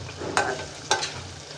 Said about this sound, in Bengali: তো এখন কাঁচা মরিচ দিয়ে মশলাটা কষিয়ে নেই।